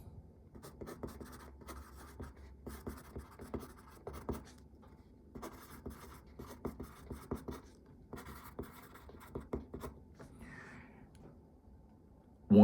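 A Faber-Castell graphite pencil scratches across paper in quiet, uneven strokes and short bursts with brief pauses, faint and close up, ending in a louder bump.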